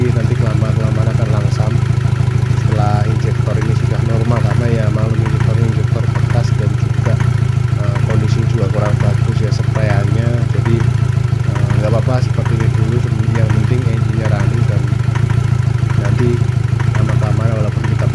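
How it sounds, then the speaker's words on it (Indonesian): Car engine idling roughly and unevenly after an injector cleaning, a steady low rumble running close and loud throughout, with speech and workshop noise over it. "Engine sudah running walaupun masih kurang langsam"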